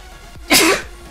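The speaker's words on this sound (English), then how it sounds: "Sneeze." One short, sharp sneeze bursts out loudly at close range during a Call of Duty Black Ops 3 hardcore domination session on PS4, a quick breathy blast lasting about a third of a second.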